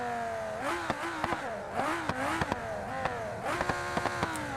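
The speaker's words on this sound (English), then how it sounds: "Look at that engine flopping about." Modified minivan engine revving hard in bursts, pitch sweeping up and down repeatedly with sharp clicks and knocks over a loose-sounding engine, loud and close with no talk.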